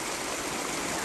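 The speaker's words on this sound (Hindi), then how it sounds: "बहुत अच्छा बह रहा है पानी" Water flows fast in a village stream, a constant close rushing wash with no voices.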